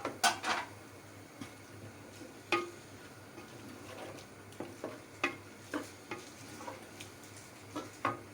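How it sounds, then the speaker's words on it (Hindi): A spoon stirs turmeric, red chilli, crushed chilli, chaat masala, garam masala, sugar and salt into chickpeas in a pan for Kathiyawari chollay, giving irregular sharp clinks and scrapes against the metal over a faint sizzle. "ये सब चीज़ें मैं एक साथ डाल के और चला दूँगी"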